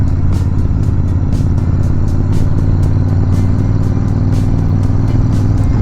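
Motorcycle riding on an early-morning road trip from Bangalore toward Munnar in Kerala, a loud, continuous engine rumble and wind roar recorded close on the bike, steady throughout with no talking.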